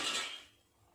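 A metal lid settles onto a cooking pot of drumstick vegetables with a brief, soft scraping clink that quickly fades to quiet.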